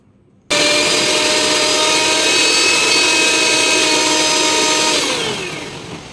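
An electric mixer grinder grinds poppy seeds at home, a loud steady motor whine starting abruptly and running for several seconds before winding down at the end.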